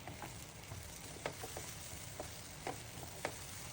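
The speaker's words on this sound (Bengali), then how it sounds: "এই যে আমি ভালো করে চালটা ভাজে নেব" Pulao rice and carrots fry in a pan with a quiet continuous sizzle, punctuated by several sharp spatula scrapes and taps as they are stirred.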